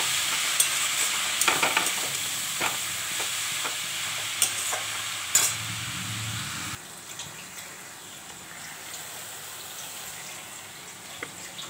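Kalmi shak (water spinach) with salt and turmeric is stirred and fried in a pan, spatula scrapes ticking over a gentle sizzle that grows quieter partway through.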